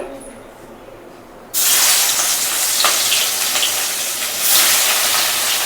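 Fish sizzles loudly in a hot pan of oil. A quiet stretch gives way to a sudden burst of steady, close frying that carries on to the end, swelling again near the close.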